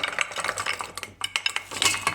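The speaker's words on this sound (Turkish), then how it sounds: "Şimdi ilk başta vişnelerimizi tencereye alacağız ve üzerine su ekleyip vişneleri haşlayacağım." Sour cherries tumble into a cooking pot with water, giving a quick run of light clinks, knocks and sloshing over about two seconds, with no talking.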